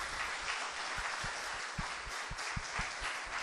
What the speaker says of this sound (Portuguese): Vamos aplaudir o Senhor por isso?